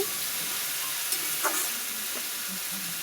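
Jute leaves frying in rohu fish oil, a bright continuous hiss and sizzle with soft stirring scrapes, close and fairly loud, no talking.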